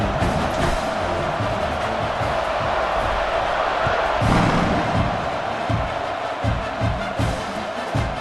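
Stadium crowd at a college football game roars in a steady, dense wash of cheering as the kickoff approaches, loud and sustained with a few sharper swells and thumps near the end.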